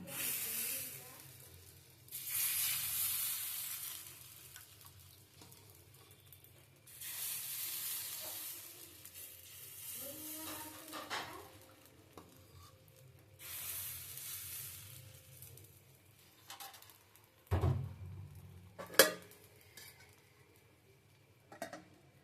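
Chitoi pitha batter cooks in a pan over a gas stove, with soft recurring bursts of sizzling hiss separated by quiet gaps, then a few sharp clinks and knocks near the end.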